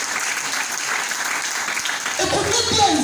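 A church congregation bursts into applause, with clapping over a crowd murmur that grows fuller and louder toward the end.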